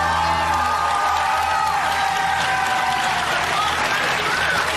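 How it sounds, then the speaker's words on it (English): Game-show studio audience cheering and applauding in a loud, steady wash of claps and whoops that carries unbroken through the whole stretch, with shouts and whistles mixed in. "Gonna ask the audience starts cheering in advance and just stops abruptly if I get it wrong"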